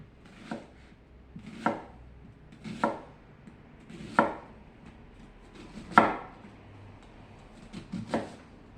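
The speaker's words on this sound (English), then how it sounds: "we're just going to peel the skin off here. And start dicing." A knife dices food on a cutting board for a meaty baguette, giving seven distinct, fairly loud chops at a slow, uneven rhythm with short pauses between strokes and no talking.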